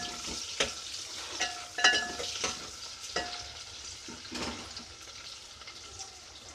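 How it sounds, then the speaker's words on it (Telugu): Tomatoes and onions frying in a pan for prawn biryani, a soft steady sizzle with intermittent scrapes and taps of a stirring spoon, fairly quiet, nobody speaking. "ఇప్పుడు ఇందులో టమాటా వేసుకున్నాము కూడా బాగా ఫ్రై చేసుకోవాలి"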